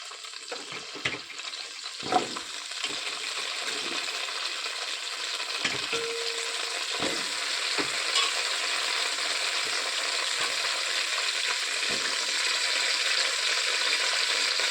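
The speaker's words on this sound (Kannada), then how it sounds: "ಸ್ವಲ್ಪ ಎಣ್ಣೆ ಬಿಸಿ ಆಗ್ತಿದ್ದಂಗೆ ಈ ತೊಳೆದಿಟ್ಕೊಂಡಿರೋ ಅಂಥ ನುಗ್ಗೆಕಾಯಿನ ಹಾಕ್ಕೊಳ್ತಿದ್ದೀನಿ" Drumsticks sizzling as they fry in hot oil in a pressure cooker, a steady close hiss that builds and holds, with a few stirring knocks early on.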